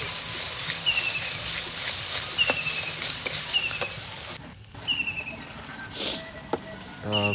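Ginger garlic paste fries in hot oil with onions and mint leaves, giving a steady close sizzle broken by stirring scrapes and light clinks of a utensil against the pan.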